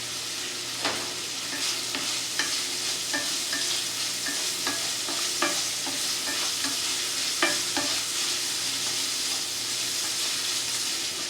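Carbonara pasta sauce cooking down in a pan, a steady close sizzle with regular scraping stirs and soft clicks of the utensil against the pan, no voices.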